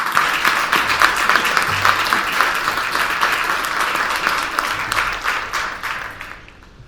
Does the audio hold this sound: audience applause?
yes